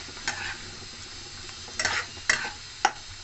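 Gima greens cooking with potatoes in a pan, stirred in a few separate scraping strokes over a soft sizzle, close by and quiet, with pauses between strokes and no talking.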